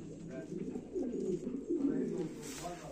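Pigeons softly cooing in a breeding loft, low murmuring coos close by with a person talking over them.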